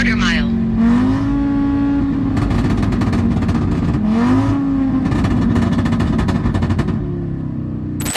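Heavily tuned 800 hp Audi RS3 Stage 4 launching hard on a quarter-mile drag run, its engine note climbing steeply through several quick gear changes with crackling bursts, loud and close throughout.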